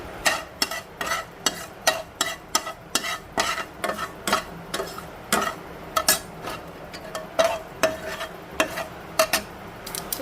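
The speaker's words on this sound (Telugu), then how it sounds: "చూస్తారు కదండి పోపు వేగిపోయింది" A spice tempering with onion, green and dried chillies and curry leaves fries in a pan for fenugreek curd, with rhythmic scraping strokes of a spoon repeating over a steady sizzle, no voices.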